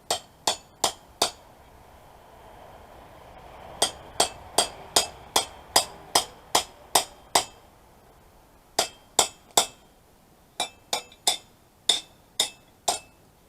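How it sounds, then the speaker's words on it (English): Hammer blows drive a drift through a hole in hot rebar steel at the forge, a long series of sharp ringing metallic strikes in steady bursts with brief pauses between groups. "Put this through the hole. And we're just going to drift it out."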